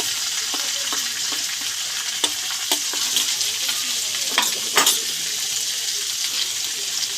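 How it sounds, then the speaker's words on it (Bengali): Tomatoes with vegetables and salt fry in a pan, a continuous bright sizzle broken by several clinking scrapes of a spoon stirring against the metal, close and moderately loud. "নুন দিয়ে ভালো করে আরেকবার নেড়ে নেব"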